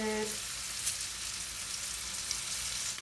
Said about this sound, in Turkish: köftelerimiz una batırıp kızgın yağda alırız. Güzel kızartıyoruz.